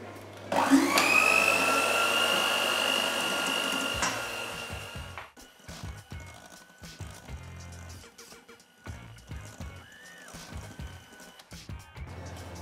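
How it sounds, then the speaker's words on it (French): Egg whites being whipped with sugar by what seems to be an electric mixer, a loud steady motor whir for the first four seconds, then scraping, clattering bowl and utensil knocks. "Une fois que vos blancs sont montés, serrez-les avec du sucre que vous verserez petit à petit."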